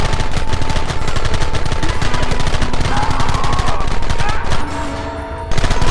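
Rapid, loud gunfire crackles continuously in a Red Dead Redemption battle, dense bursts of machine-gun and rifle shots overlapping almost without pause before a brief lull near the end.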